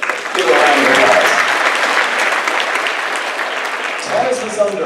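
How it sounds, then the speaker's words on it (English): Audience applause at a school board meeting awards segment, a sustained burst of clapping that swells quickly and holds steady for several seconds, with a voice speaking at the start and again near the end. "Give her a round of applause."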